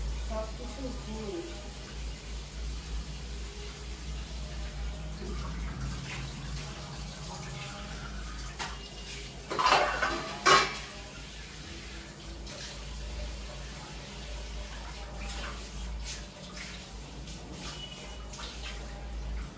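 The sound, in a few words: washing dishes at a kitchen sink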